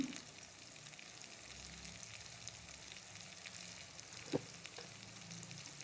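Chopped cabbage with chilli, salt and turmeric being stirred in a hot pan, a steady quiet sizzle with occasional scraping strokes of the spoon and one sharper clack near the end.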